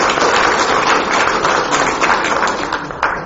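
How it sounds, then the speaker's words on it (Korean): Audience applause at a political party founding ceremony, a dense, steady wash of many hands clapping close by, holding level for a few seconds before easing slightly at the end. "다 함께 힘찬 자축의 박수를 보내주시기 바랍니다"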